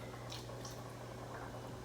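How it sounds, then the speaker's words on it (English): Almond milk pours into a mashed banana mixture for vegan banana bread, giving a soft, steady liquid gurgle with a few brief squishy splashes over a constant low kitchen hum, close and fairly quiet with no talking. "I'm going to use 2/3 cups of almond milk, and I'm going to pour it inside of my banana mixture."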